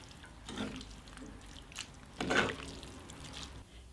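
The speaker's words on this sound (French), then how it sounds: "Je vais mélanger et laisser reposer quelques secondes pour que les saveurs se mélangent." Puttanesca sauce with olives, capers, chili and fresh basil is stirred in a pan, giving two soft, wet squelching bursts that are quiet and close, with no talk.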